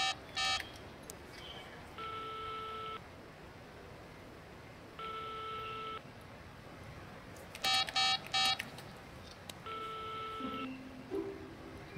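A phone is dialed in a drama scene, producing short beeping keypad presses alongside longer repeated ringback tones at regular intervals, quiet and steady over a soft background hiss.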